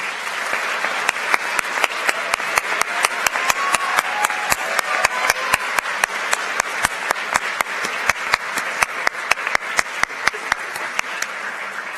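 Applause from an audience at a school awards ceremony as students stand to be recognised, steady dense clapping with sharp individual claps throughout, sustained and fairly loud for the whole stretch.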